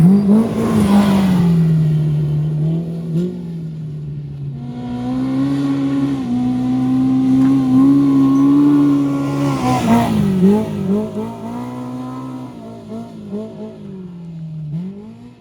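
An ATV engine revs on a trail, a loud continuous droning growl that rises and falls in pitch as the throttle changes, swelling strongly twice as the machine comes closer, with no talking.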